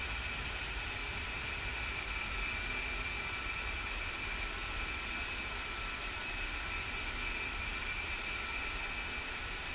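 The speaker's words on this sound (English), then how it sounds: "So now the engines are running on their own without any external power." Jet engines of an A-10 run steadily on their own power, a constant loud roar with a high whine on top, unchanging throughout and with no talk.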